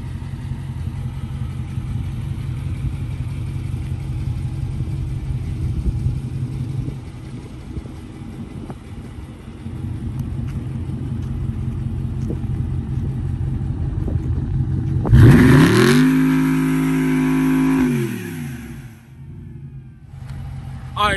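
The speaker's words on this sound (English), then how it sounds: "And now you can do a burnout anytime you like" A car on line lock does a burnout, a steady engine idle rumbling before the revs surge loudly into a sustained roar with a sharp whine, then dropping away to quiet.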